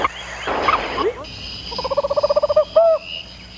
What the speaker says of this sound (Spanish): Cuando el aruco llama, su pareja responde.